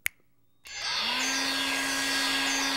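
After a small click and a brief silence, a hair dryer switches on and blows with a steady, whining whoosh that quickly settles into a constant hum.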